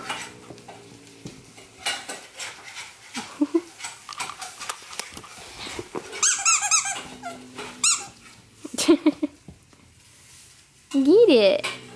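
A dog chews a squeaky toy indoors at home around Christmas, setting off a string of sharp, irregular squeaks with chewing noises between them, while people talk nearby.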